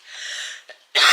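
A person coughs close by: a drawn-out rasp, a short catch, then a sharp loud burst.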